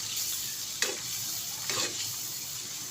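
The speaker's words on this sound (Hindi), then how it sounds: "अब इसके अंदर हम 1 गिलास पानी ऐड करेंगे ताकि ये आलू इसमें अच्छे से गल जाए।" Potatoes frying in a pan for an aloo anda dish as a glass of water is added, giving a steady close hiss and sizzle with a couple of sharp splashing bursts.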